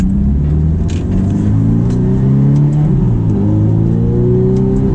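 A Ferrari F430 engine revs and accelerates in manual mode, loud and close, with rising harmonic tones that climb and drop at gear changes throughout, no talking over it.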